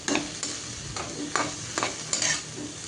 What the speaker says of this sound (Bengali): এখন ভাজা ভাজা করে নিব নেড়ে চেড়ে